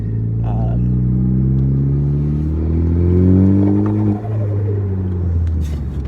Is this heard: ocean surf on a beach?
no